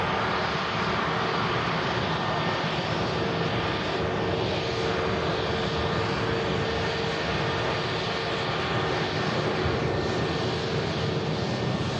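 A Scandinavian jet airliner bound for Stockholm at Manchester Airport produces a dense, continuous engine roar with faint tonal whines, loud and unchanging throughout.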